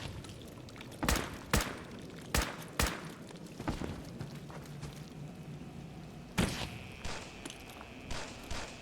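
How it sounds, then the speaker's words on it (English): Gunfire in a war zone in the video game Fallout 4: a series of sharp, loud shots and thuds, some close and some distant, spaced irregularly over a low rumbling background with no talking. "To even see where a lot of this gunfire is coming from is difficult."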